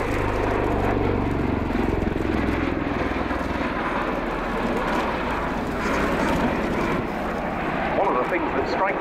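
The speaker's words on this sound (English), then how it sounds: "Things that strikes you while watching the Osprey fly and how quiet it is" A USAF CV-22 Osprey tiltrotor flies a display at the RIAT 2015 air show, its broad, steady rotor and engine rumble filling the air continuously, with a commentator's voice talking over it.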